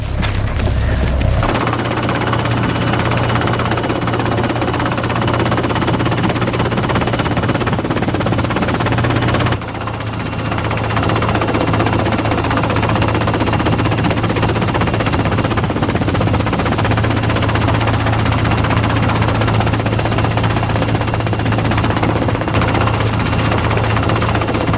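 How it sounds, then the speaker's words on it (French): A requisitioned helicopter flying, a loud continuous rotor and engine roar with a low throb, steady throughout with a brief dip partway through and no speech. "Ce n'est pas un hélico de la police."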